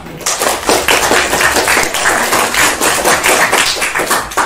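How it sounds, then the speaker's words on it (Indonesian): A school class claps hands for a classmate during a lesson, loud dense continuous clapping from many pupils, close and sustained with no talk over it. "tepuk tangan untuk Aryo."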